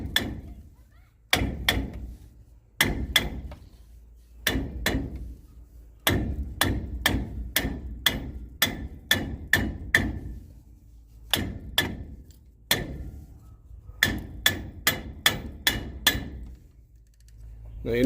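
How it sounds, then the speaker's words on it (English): A big hammer strikes the edge of a stuck, swollen brake drum during drum brake disassembly, making a long series of sharp, loud metallic bangs in irregular clusters, close by with no talking. "hit it around the edge with a hammer, a big hammer"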